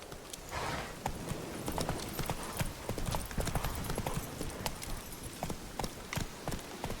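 Roach the horse galloping in The Witcher 3, rapid hoofbeats in a steady drumming rhythm, close and fairly loud, with a brief stretch of softer movement noise and no clear talking.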